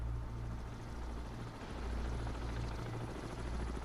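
A helicopter in the submarine game Cold Waters gives a steady rotor thrum and throbbing low drone, with a dense broadband wash, continuous and fairly loud, with no speech.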